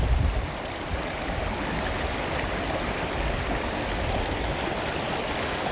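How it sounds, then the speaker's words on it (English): Small streams flowing near a reservoir, a continuous rushing wash of water, steady and fairly loud with no voices. "We'll hike up and take a look at these little tiny streams."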